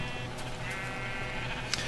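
Sheep bleat in a video game, the backup flock kept down in a mine, a steady layered chorus of game animal calls running continuously at moderate level with one brief sharper sound near the end.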